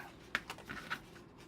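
Scissors or a paper trimmer cutting cardstock for a handmade pop-up gift card, heard as a few faint, quick snips and paper rustles in a quiet room.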